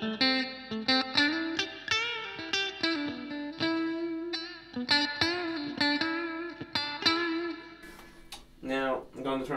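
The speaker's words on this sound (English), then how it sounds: "Now I'm going to add some reverb so you can hear." Blackstar HT1 guitar amplifier with its reverb turned all the way to maximum, a played guitar line ringing out in a long, washy tail that smears each note into the next, loud and alone.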